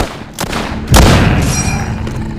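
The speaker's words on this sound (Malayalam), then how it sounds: "ഗ്രനേഡ് അവിടെ" Grenade blast in the zombie shooter game The Walking Zombie: a sharp, loud boom lands after a quieter stretch with a click, then a rumbling tail and ringing decay that fade slowly.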